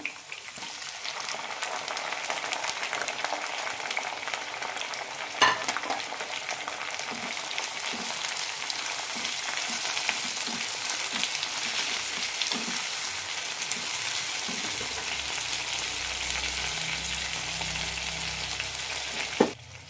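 Tomatoes frying with garlic in hot oil for a tomato pickle, a steady dense sizzle and crackle running unbroken for about twenty seconds, close and loud with faint stirring scrapes and no talking.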